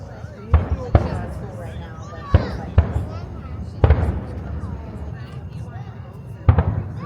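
Fireworks watched from the beach at Disney's Fort Wilderness campground at Halloween, six or so sharp booming bursts at irregular intervals, fairly distant, with crowd chatter and talk running underneath.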